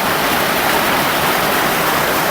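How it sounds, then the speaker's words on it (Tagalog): Heavy rain pours down on a house with a leaking roof, a loud, dense, unbroken roar from start to finish with no voices. "naabutan po kami ng ulan dito mga kabayan, malakas na ulan"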